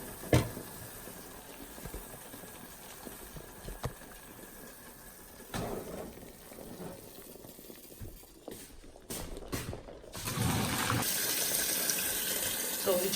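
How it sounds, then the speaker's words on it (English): Cold tap water runs into a cooking pot holding eggs, a steady faint stream that swells into a louder gush near the end. "So we just have our eggs in there with cold water. I'm putting cold water."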